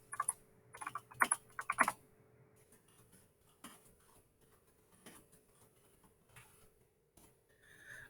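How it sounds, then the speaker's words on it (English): Keys clatter on a computer keyboard in a burst of fast typing, followed by sparser single keystrokes and occasional Enter presses at an even, close, fairly quiet level, with no voices. "I'm just hitting enter instead of clicking out OK because it's a little bit faster."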